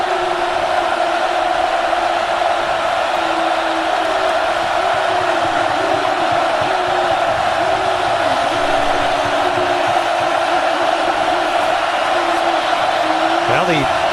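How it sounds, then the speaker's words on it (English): A roaring student crowd at Autzen Stadium fills a college football game between Colorado and Oregon with a loud, sustained wall of noise, steady and dense throughout, with voices and a commentator's talk woven into the din. "the Autzen crowd, the students, making enough noise to force Lufau to take time out"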